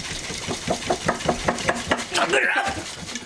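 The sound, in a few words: dry shaking a Boston Sour cocktail in a shaker without ice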